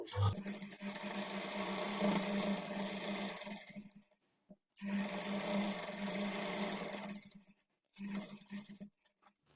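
A domestic sewing machine runs in steady bursts while stitching along the edge of a front-slit designer kurti, with a rapid, even whirr that stops briefly twice, then starts again, close and moderately loud.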